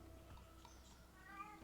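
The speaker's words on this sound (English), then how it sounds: "if you hear them meowing in the background, that's a cat." A faint cat meow sounds in the background, brief and soft against a low hum.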